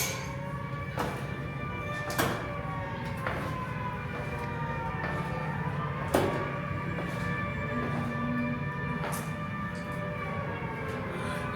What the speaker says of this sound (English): You can actually hear sirens. It's quite... Air raid sirens.